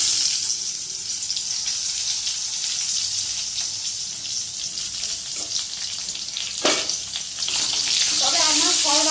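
Potatoes fry in a small amount of oil with bay leaf and spices, a steady close sizzle running throughout, briefly disturbed by a clatter and stirring near the end.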